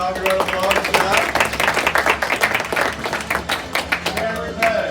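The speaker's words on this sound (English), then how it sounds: "let's give Robbie a round of applause" Round of applause for Robbie at a black belt graduation, dense steady clapping from a gathered crowd continuing for several seconds with a voice faintly over it.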